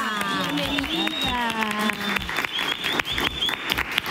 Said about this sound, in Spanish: fuerte el aplauso aquí en el estudio para recibir a Patricia Palmer